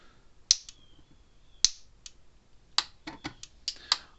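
A Gallagher M800 electric fence charger gives off sharp, close snapping clicks, spaced irregularly with some quicker bursts, standing out against a quiet background.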